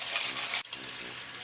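Tap water runs steadily into a bowl of ice for an ice bath, a continuous close splashing gush with a brief dip partway through and no talking.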